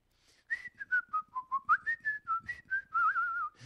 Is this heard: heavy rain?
no